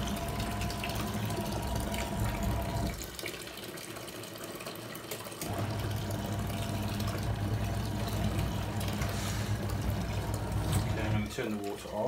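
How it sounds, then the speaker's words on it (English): Tap water runs steadily into a Costway mini twin tub washing machine, a loud continuous gushing that dips briefly partway through before resuming at full strength. "turn the water off."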